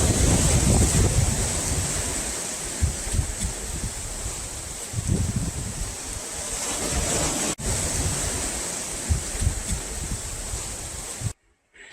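Ocean waves wash onto a beach on Vancouver Island as the tide goes out, a steady surf rush with repeated soft breaking swells and some wind buffeting the microphone, fairly quiet and without voices.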